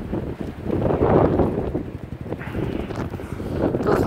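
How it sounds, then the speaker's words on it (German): Loud, rumbling gusts of wind batter the microphone continuously, rising and falling in waves. "Es ist sehr, sehr windig geworden."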